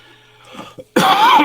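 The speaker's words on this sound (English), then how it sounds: "That's my cough." A single cough or throat-clearing bursts out loud and close after a quiet stretch, with a rough, raspy tail that lasts about half a second.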